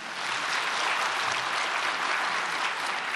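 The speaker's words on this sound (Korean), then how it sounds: "박수로 환영하시겠습니다." A church congregation at a prayer meeting for peaceful reunification gives sustained applause welcoming a speaker, a dense, even clapping that fills the room for a few seconds without any voices.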